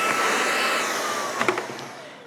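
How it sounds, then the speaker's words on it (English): A Riccar R70 cordless 2-in-1 vacuum and mop runs with a steady whirring motor hum, close by and alone, with a few brief bumps and clicks near the end as the floor head moves. "It's a very easy vacuum to use"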